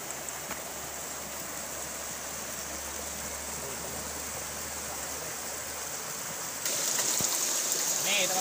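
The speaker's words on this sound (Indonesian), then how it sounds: "Di belakang saya ini ada sungai kecil." A small river stream flows in a steady, even rush of water, close and continuous, with a brief louder hiss near the end.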